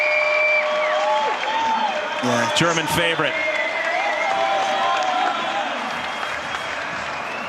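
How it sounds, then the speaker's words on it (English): Crowd at the Red Bull District Ride 2022 urban slopestyle contest cheering and applauding, a dense, loud, sustained roar with clapping throughout, a commentator talking over it. "Crowd going nuts"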